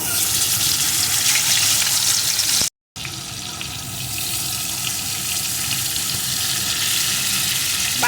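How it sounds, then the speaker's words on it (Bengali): Small puti fish frying in hot oil in a pan give a loud, dense, continuous sizzle, broken briefly by a short cut, then carrying on steadily without speech. "পুঁটি মাছগুলো আমি দিয়ে দিলাম এগুলোকেও লাল লাল করে ভেজে নেব"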